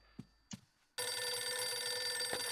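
An old telephone bell in the GameCube horror game Eternal Darkness starts ringing after a couple of soft knocks, then rings continuously and loudly with a bright metallic jangle.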